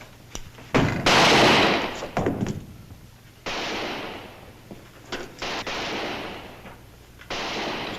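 Gunfire in a Western drama: several sharp, loud shots and bursts crack out at irregular intervals, some close and some echoing, with quieter gaps between.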